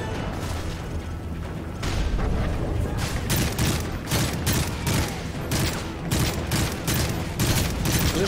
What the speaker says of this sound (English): I'm just shooting there, because I thought I saw something